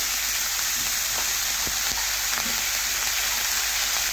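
Ginger, cumin, green chili paste and chopped tomato frying in hot oil for a vegetarian bottle gourd dish, a loud constant hissing sizzle with occasional faint stirring clicks, no talking.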